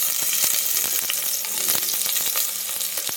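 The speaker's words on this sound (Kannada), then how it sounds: "ಇದನ್ನು ಫ್ರೈ ಮಾಡಬೇಕು. ಈರುಳ್ಳಿ ಹಾಕ್ತಾಯಿದ್ದೀನಿ" Onions frying in a pan for tomato rice, a bright crackling sizzle broken by quick rhythmic scrapes of a spoon stirring close up.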